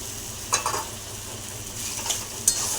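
Taro leaves (kochu shak) are stirred in a pan, a steady low sizzle broken by a few sharp scrapes of the spatula against the metal, close up with no talk.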